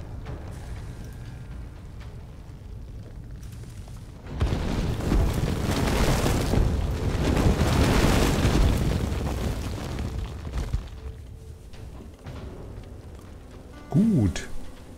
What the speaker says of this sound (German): wir können hier alles schön explodieren lassen